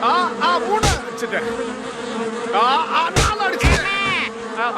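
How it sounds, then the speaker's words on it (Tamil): Giant cartoon mosquito buzzing in a Motu Patlu 3D animated scene, a steady insect drone with rising and falling whines under voices, punctuated by a few sharp thumps. "இது ரெண்டாவது கொசு."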